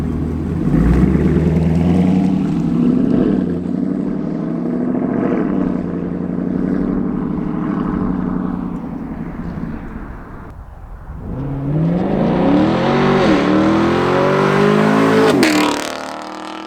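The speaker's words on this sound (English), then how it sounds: "I'll put an exhaust clip here for you." A Camaro SS V8 fitted with an MBRP axle-back exhaust rumbles loudly and steadily at close range, dips briefly, then revs up hard in rising, aggressive sweeps before settling.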